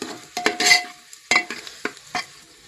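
Turmeric and cumin crackle and sizzle in a hot pan, with a few sharp stirring scrapes and short bursts of spitting oil standing out above a quiet background.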